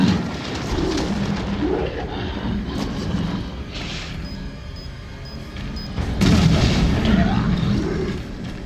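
Bombs going off in the Resident Evil 7 video game during a fight with a large enemy. Deep booming blasts rumble over a dense low background, with a heavier burst near the end.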